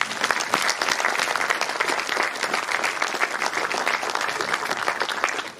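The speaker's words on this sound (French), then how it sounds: "Je vais vraiment vous demander d'applaudir pour Madame la Première Ministre." Sustained, dense applause from an audience honouring a prime minister at a Congolese diaspora women's event in Belgium, steady and fairly close throughout, with faint crowd murmur mixed in.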